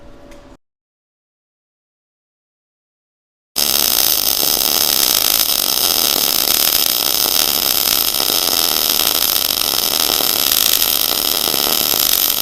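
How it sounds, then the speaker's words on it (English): After a brief silence, a YesWelder MIG 250 Pro welder strikes an arc and a MIG weld runs with a loud, continuous crackling hiss that holds steady to the end. "The Yes welder MIG 250 Pro actually welded really good."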